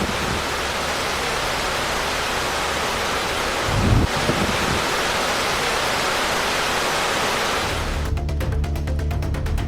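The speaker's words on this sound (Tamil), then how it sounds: "சலால் அணையில் அனைத்து மதகுகள் வழியாகவும் நீர் வெளியேற்றப்படுகிறது" Water gushing through all the open sluice gates of the Salal dam on the Chenab river, a loud, continuous broadband roar that holds steady and swells briefly partway through.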